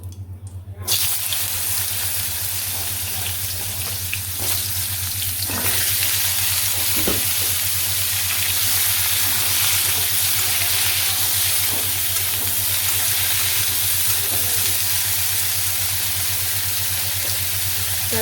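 Vegetables fry for a curry in a pan, a steady loud sizzle and hiss with occasional stirring clicks and scrapes, under a constant low hum.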